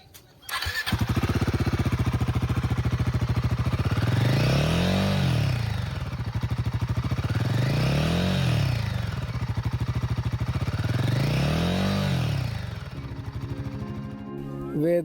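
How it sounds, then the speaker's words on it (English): A Royal Enfield Guerrilla 450 motorcycle starts up close by, then its exhaust rises and falls through three long, even revs before settling back to idle. "Let me show you the exhaust note."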